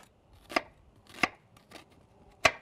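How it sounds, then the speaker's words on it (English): A knife cuts down through an onion on a cutting board in four crisp chops at an irregular pace, close and clear against a quiet background. "I cut down all the way through the onion, but not all the way across"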